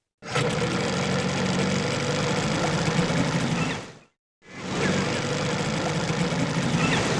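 A boat motor chugs steadily in a CD-i sailing game as the boat heads out of a harbor. The drone is close and constant, stops briefly and then resumes.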